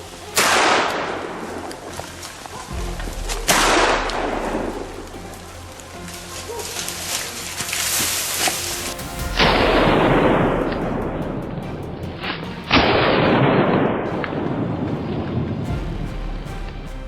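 Several sharp, loud gunshots outdoors during a wild boar hunt, each followed by a long rolling echo that fades slowly, spaced a few seconds apart.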